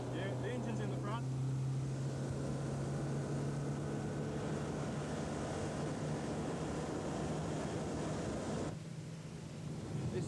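A steady front-engined race car engine drone heard from inside the car at Phillip Island circuit in 1989, loud and continuous with a low hum, easing slightly near the end.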